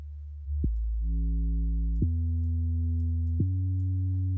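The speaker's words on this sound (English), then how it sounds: "This one just has a little bit more grit to it. Yeah, that sub's a lot thicker now." Gritty sub bass synth tone for music production, a thick, sustained low drone that steps between a few held pitches with faint harmonics above, playing alone without voices.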